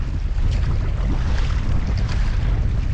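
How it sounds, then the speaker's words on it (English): Breeze blowing across an Adirondack lake while paddling, a loud, continuous rush of wind buffeting the microphone with a low rumble underneath and no voices. "the breeze picked up a little bit"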